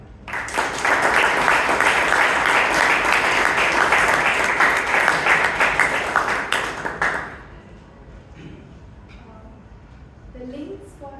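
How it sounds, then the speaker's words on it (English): A Toastmasters club audience applauds loudly and steadily for about seven seconds before the clapping fades away, leaving quiet room sound with a few faint voices at the end. "Let's give one more round of applause to Toastmaster Shashank."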